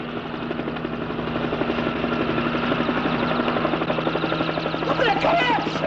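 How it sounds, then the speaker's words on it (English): A helicopter's rotor beats steadily with a constant drone, close and loud throughout, while voices shout over it near the end. "It's a helicopter!"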